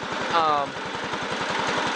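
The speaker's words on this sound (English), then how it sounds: "So, this engine chugs along nice." The Kohler engine on a Bolens lawn tractor chugs along in a steady, even rhythm of low pulses, close and continuous, with someone talking over it.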